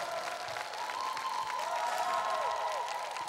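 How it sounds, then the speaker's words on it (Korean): A crowd applauds the county governor at the 2nd Organic Goesan Song Festival, an outdoor stage event. The clapping is steady and fairly distant, and a sustained tone sits over it. "군수님께 큰 박수 부탁드리겠습니다"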